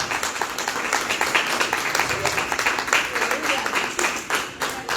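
A church congregation applauds during a Good Friday worship service, dense steady clapping filling the room with some voices and cheers mixed in underneath.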